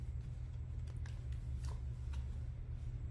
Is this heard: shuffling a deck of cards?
yes